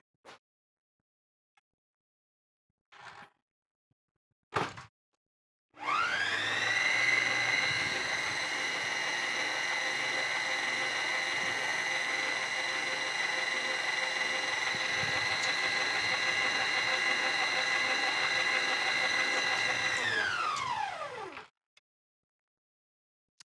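An electric mixer beats flour into coconut cranberry cookie dough. A few brief clunks come first, then a loud, steady motor whir runs for about fifteen seconds before it winds down and stops.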